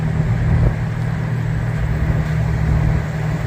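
Cars on a country road, including Corvettes and Hondas, produce a loud, steady engine drone and road rumble heard from close inside or beside a moving vehicle.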